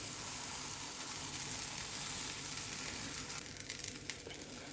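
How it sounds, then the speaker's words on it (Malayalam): A cheese paratha made with rava and maida sizzles and fries on a hot, oil-greased tava, a steady close crackling hiss that eases slightly toward the end. "അപ്പം തവ ചൂടായി കഴിയുമ്പോൾ നമ്മൾ ആ തവയിലോട്ട് അങ്ങ് ഇടുകയാണ്."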